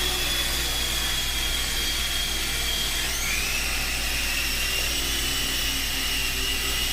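An E-flite Blade MCX Tandem Rescue micro RC helicopter flies indoors, its rotors producing a steady high-pitched whine that dips and shifts in pitch midway as throttle changes, with no talking.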